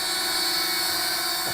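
Steady high-pitched buzzing whine of the tiny MJX V1 toss-and-fly drone's motors, continuous and close, with a slight pitch drop at the end and no speech.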